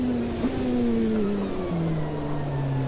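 Racing game car on a wet track, driven at the limit of tyre grip: a steady engine tone that shifts pitch and steps down through gear changes, with a constant roar of tyre and road noise underneath.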